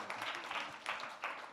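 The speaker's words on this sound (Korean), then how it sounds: "그분에게도 안 보이는 곳에서 박수 한 번만." An audience at a church fellowship performance event claps in a brief, faint burst of applause with a few swells, heard from a distance.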